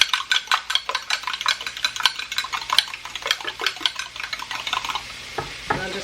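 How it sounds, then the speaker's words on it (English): Two eggs beaten quickly with a utensil in a bowl, a fast, steady stream of close clicking and tapping strokes that fades near the end. "2 eggs, but we're going to beat them real quick"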